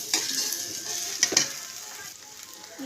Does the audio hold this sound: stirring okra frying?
yes